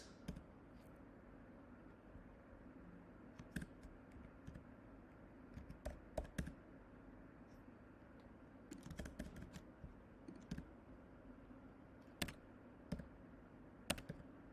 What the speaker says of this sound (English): let's type something like check email against